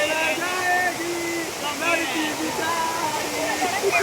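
The Ghatarani waterfall in Gariyaband gives a steady, broad rushing roar throughout, with voices or tonal sounds layered over the water.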